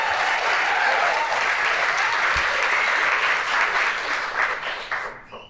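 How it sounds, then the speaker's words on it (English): Live audience applauding and clapping steadily at a livestreamed talk event, a dense sustained wash of claps that tapers off near the end. "You can clap"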